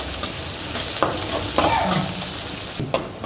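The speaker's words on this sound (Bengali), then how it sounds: "পেঁয়াজটা ভাজা করে লাল লাল করে নেব" Chopped onion fries with ginger-garlic paste for a samosa filling, a steady close sizzle broken by several scraping stirs of a spatula, with no talking.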